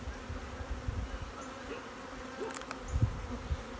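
Agitated honey bees buzzing around a hive on a cloudy day, a faint continuous drone with occasional closer passes and light handling bumps.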